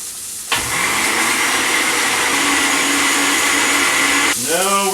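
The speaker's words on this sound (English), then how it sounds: "and we're going to put it back onto the blender." A kitchen blender whirs loudly while blending basil and herbs for a green curry sauce, starting abruptly and running steadily for about four seconds before winding down, with no talk over it.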